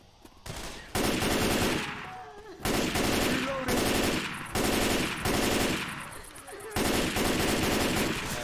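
Automatic gunfire in the zombie shooter Left 4 Dead 2 rattles in loud, sustained bursts broken by short gaps for reloading.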